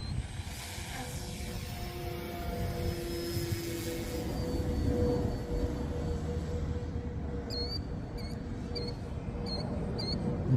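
A model airplane takes off at full throttle: a continuous engine drone holds steady and swells a little in the middle, with faint high chirps near the end and no talking.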